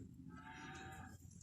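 An old show cow moos once on a farm, a sustained, drawn-out bellow lasting over a second, faint and distant with no talk over it.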